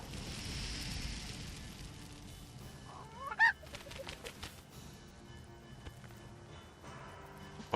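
Chickens in a Donjon de Naheulbeuk video game give a short burst of clucking and squawking around the middle, over a busy background of game sounds.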